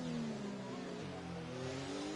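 Formula 1 racing car engines during an online league race at the Azerbaijan circuit in an F1 video game, a sustained high engine whine whose pitch slides down and then climbs again as cars pass.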